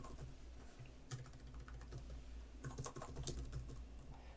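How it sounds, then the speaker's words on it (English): Soft, quick keystrokes on a computer keyboard tap away in irregular bursts, faint and close, with no talking over them. "I'm just typing in"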